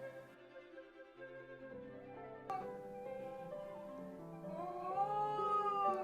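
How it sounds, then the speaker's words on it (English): An elderly house cat lets out drawn-out, wavering meows and yowls indoors, fairly quiet but clear, building toward a louder, rising cry near the end with no one talking. "It's my cat."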